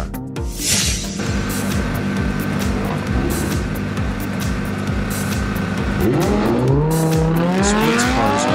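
A sports car engine roars loudly and steadily up close, then revs harder near the end, its pitch climbing as it accelerates.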